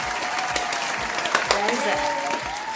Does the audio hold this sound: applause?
yes